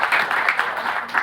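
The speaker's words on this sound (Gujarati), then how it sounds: "આપણે સૌ તાળીઓથી વધાવી લઈએ." Brief burst of audience applause welcoming guests at a World Oceans Day event, a steady patter of many hands clapping at moderate loudness.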